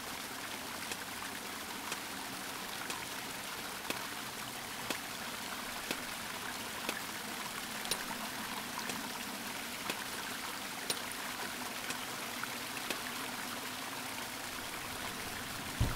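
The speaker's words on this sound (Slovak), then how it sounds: "Teraz počuť tú vodu ešte viacej." Water flows and trickles in The Longing video game, a continuous gentle stream with scattered small drips and clicks, steady and fairly close throughout.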